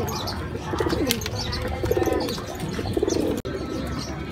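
Racing pigeons back from a training flight from the City of Muñoz coo and chirp close by, with steady cooing, scattered sharp calls and a brief wing flutter near the end.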